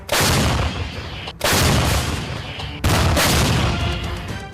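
Artillery cannon fire in war footage from eastern and southern Ukraine: three loud, heavy blasts roughly a second and a half apart, each a sharp broadband boom decaying into rumble.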